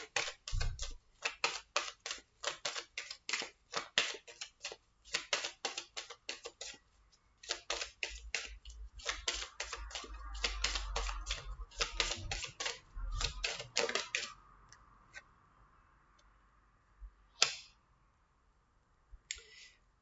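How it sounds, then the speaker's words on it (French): Tarot cards being drawn and handled close up, giving rapid dry clicking and flicking taps, dense at first and thinning to a few isolated snaps near the end, with no talking. "On va encore tirer quelques cartes pour voir un petit peu mieux."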